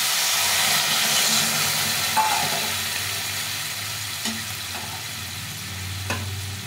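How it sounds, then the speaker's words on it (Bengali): Hot water poured into frying tomato masala for a rohu fish curry, a steady loud close hiss of steam and sizzle throughout, with a few faint clinks of a utensil. "এখন আমি এখানে এই গরম জল করে রেখেছি, গরম জলটা দিয়ে দিই।"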